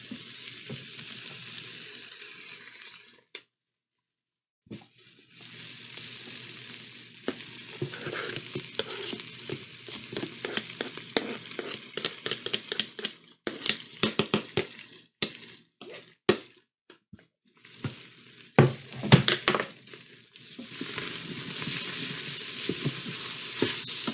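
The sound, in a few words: garlic sizzling in a frying pan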